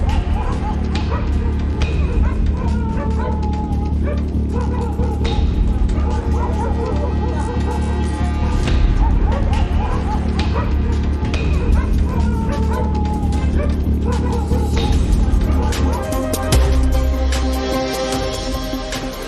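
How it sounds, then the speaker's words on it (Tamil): Dogs bark and yip repeatedly while chasing a bear through a residential area near Ooty in the morning, a busy run of loud, overlapping barks with some whimpering and other noise. "நாய்கள் துரத்தியதால் மிரண்டு ஓடிய கரடி."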